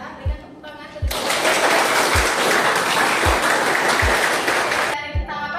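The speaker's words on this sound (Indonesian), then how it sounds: "Berikan tepuk tangan ke depan." An audience in a university lecture hall applauds for about four seconds, a dense, loud burst of clapping that starts abruptly and stops just as suddenly, with low thumps recurring underneath.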